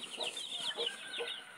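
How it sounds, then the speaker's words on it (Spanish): Newborn chicks on a poultry farm cheep in several quick, high-pitched bursts, loud and close by, with no talking over them. "Como les indicaba, estos son los pollitos."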